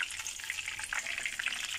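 Crispy chicken wings frying in oil, a dense steady crackle and sizzle heard close up and without talk.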